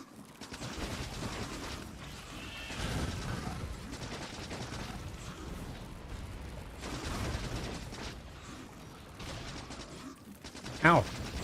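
Rapid bursts of assault rifle fire crackle in the video game Factorio, dense mechanical rattling that continues steadily throughout, with a sharper spike near the end.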